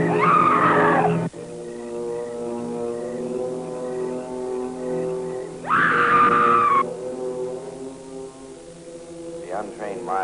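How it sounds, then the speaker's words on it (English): A ghostly, drawn-out wailing scream from the white ghost in a horror film: two long, high, piercing cries separated by a quieter stretch of sustained eerie tones, with a shorter wavering cry at the end. "it is the scream of the white ghost"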